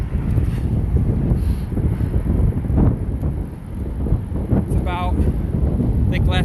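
Strong wind roars constantly across the microphone while riding a bike on a cold day, a loud, unbroken buffeting rush with a faint whistling tone near the end.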